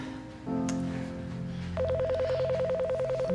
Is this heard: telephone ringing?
yes